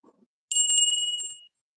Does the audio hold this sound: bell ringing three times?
yes